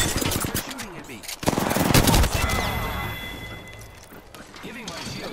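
Gunfire in Apex Legends: loud, close rapid automatic bursts and single cracks, with a heavy barrage around the middle that fades toward the end, and voices talking over the shooting.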